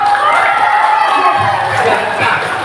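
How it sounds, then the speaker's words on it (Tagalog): Crowd of residents at a community feeding program in Tunson cheers and shouts together in a loud, continuous burst, voices of children and adults blending throughout. "isang creative palakpak!"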